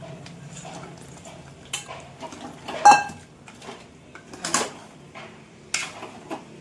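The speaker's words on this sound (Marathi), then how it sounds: "आणि आता याच्यामध्ये टाकते मी झिंगे." Prawns tipped into cooked masala in a cooking pot, giving a few light clatters and metallic clinks against the pot over a low background, with one sharper clunk midway.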